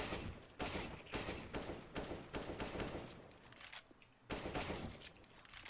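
Rapid automatic gunfire bursts in the CS:GO video game, several loud clustered volleys separated by brief gaps, with one short pause near the end before firing resumes.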